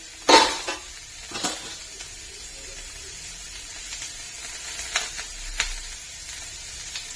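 Onions, green chillies and curry leaves sizzling in a pan, a steady low crackle broken by sharp clinks and scrapes of a utensil stirring against the pan.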